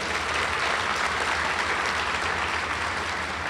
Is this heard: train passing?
no